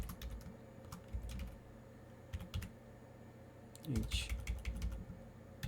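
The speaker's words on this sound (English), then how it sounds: "Go ahead and type your node." Fingers tapping keys on a computer keyboard in short, irregular bursts of clicks, fairly quiet and close, with a brief spoken word between the bursts.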